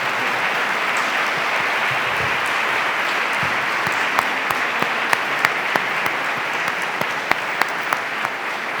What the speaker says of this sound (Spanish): Démele un aplauso fuerte al Señor